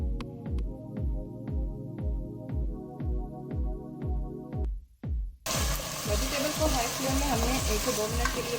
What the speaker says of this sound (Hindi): और ऐड करेंगे अब इसके अंदर vegetables, capsicum, red bell pepper, yellow bell pepper और इसको हाई फ्लेम में 1 से 2 मिनट के लिए भूनेंगे।